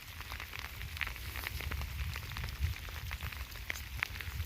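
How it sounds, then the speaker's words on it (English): Rain falls outdoors on a sandy hill, a faint, quiet patter of scattered drops ticking irregularly over a soft low rumble. "So you see it's raining."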